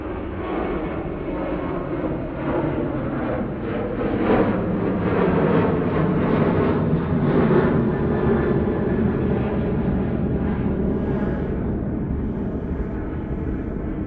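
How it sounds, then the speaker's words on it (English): A Ryanair jet takes off from Manchester Airport with a loud, sustained engine roar that swells in the middle and stays strong and close throughout, no voices over it. "Another Ryanair going out."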